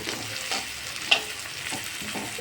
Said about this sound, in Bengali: পেঁয়াজটা আমার দেখো হালকা হালকা ভাজা হয়েছে